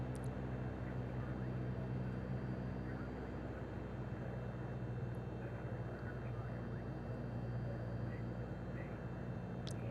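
Steady propeller aircraft engine drone in Microsoft Flight Simulator, a continuous low hum with a broad rumble held evenly throughout at moderate loudness, no speech over it.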